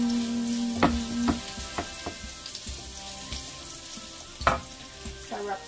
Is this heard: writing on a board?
no